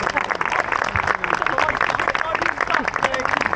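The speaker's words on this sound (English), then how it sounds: "Everyone give Jake a applause, please." Audience at a Yakushi 2025 gathering breaks into steady, dense applause, many hands clapping together in a continuous burst throughout, with crowd noise and voices mixed in.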